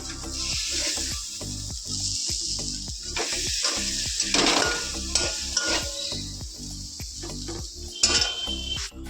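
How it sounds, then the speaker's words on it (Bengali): Bata fish rubbed with turmeric and salt fries in a hot pan with a steady, loud sizzle. A utensil stirs and scrapes against the pan again and again, and there is no talking. "বাটা মাছটাকে আমি রান্না করবো"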